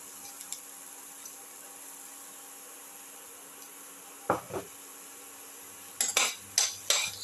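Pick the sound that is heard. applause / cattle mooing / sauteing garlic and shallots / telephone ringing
sauteing garlic and shallots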